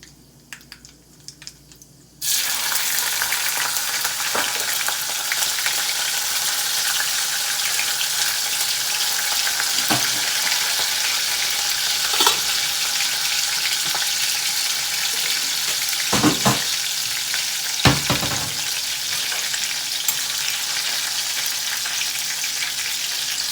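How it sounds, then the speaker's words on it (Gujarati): Loud, steady sizzling of green chillies frying in hot oil for a khaman tempering starts abruptly after a brief quiet moment, with a few clinks of a spoon stirring through it. "તો તેલ ગરમ થઈ ગયું છે તો આપણે અંદર રહી નાખીશું ત્રણ એક ચમચી અને હવે લીલા મરચાં નાખીશું"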